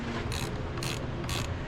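A hand wrench ratchets in three short bursts while reconnecting a car battery on a 2007 Kia Spectra, crisp metallic clicking spaced evenly and close up, with no talking.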